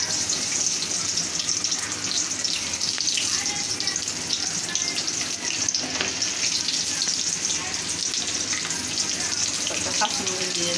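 Chopped onion sizzles with chicken in mustard and soybean oil, a steady broad crackling fry with occasional stirring and clinks running throughout, close and loud.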